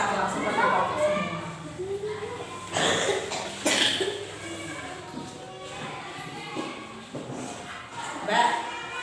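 Several people cough repeatedly in an elementary school classroom at SDN Dukuhlo 02, with short bursts scattered throughout and people talking over and between them.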